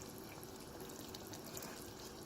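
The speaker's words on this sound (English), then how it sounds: "So I added about a cup of water more to the pot" Water pours steadily into a pot of curry chicken, a continuous soft splashing trickle heard alone and fairly faint.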